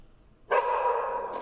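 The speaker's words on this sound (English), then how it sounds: "So the dog barks at him and starts freaking out" A dog barks and carries on in one sustained, loud outburst at a trainer who has taken its leash. It stands alone, close by, with no talk.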